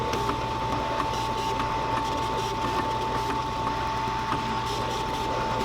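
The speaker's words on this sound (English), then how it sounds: "if you're looking for a really good, high quality vinyl cutter, make sure that it has a servo motor" Vinyl cutter driven by a servo motor cutting out pieces, a steady mechanical whir with a constant tone and light rhythmic ticking running evenly throughout, close and alone with no talk.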